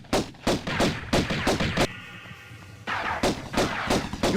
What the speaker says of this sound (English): You firing at me? You firing at me, huh?